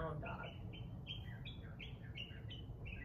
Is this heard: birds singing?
yes